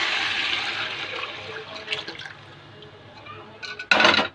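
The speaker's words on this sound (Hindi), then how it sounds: "और अब मैं इसी कुकर को धो करके पानी में" Water rushes and splashes steadily while a pressure cooker is rinsed out in a home kitchen during rice pulao cooking, tapering off and then ending in a short, louder burst of pouring.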